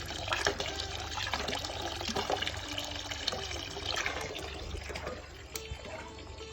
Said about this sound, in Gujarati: એટલું પાણી આવે છે.